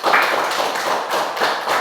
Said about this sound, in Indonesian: Kita beri tepuk tangan untuk Ananda Saka.